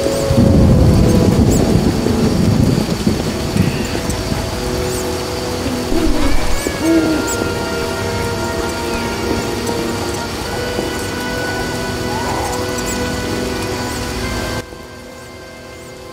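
Rain and thunder from The Witcher video game: a deep, loud thunder rumble opens, then steady heavy rain patters on, with faint birdsong, before the sound drops away near the end.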